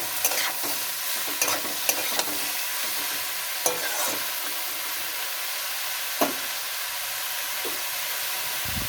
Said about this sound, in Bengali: এবার হলুদ দেব, দিয়ে এবার একটু নাড়াচাড়া করে ঢেকে দেব।